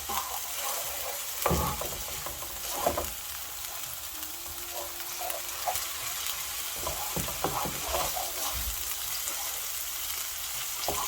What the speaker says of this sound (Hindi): इसको हम हल्का सा ही फ्राई कर लेंगे, ज़्यादा नहीं करेंगे।